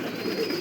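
A single short pigeon coo from a pigeon farm, soft and close, with no voices around it.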